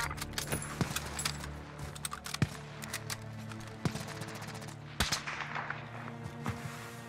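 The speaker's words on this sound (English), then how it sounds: "I heard snipers, but I don't see nobody." Distant sniper gunfire in the Warzone video game on the Caldera map, sharp isolated cracks scattered irregularly over a steady ambient rumble, with no talking.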